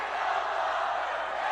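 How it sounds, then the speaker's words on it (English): Crowd at a San Beda Red Lions versus JRU Heavy Bombers basketball semifinal game, a continuous loud roar of fans cheering in an arena, steady and without pause. "And listen to the crowd here."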